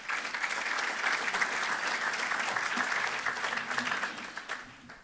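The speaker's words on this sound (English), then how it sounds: "we should give another round of applause" A business luncheon audience of the Central Kentucky business community claps in sustained applause, a dense, even patter of many hands that stays loud before tapering slightly at the end.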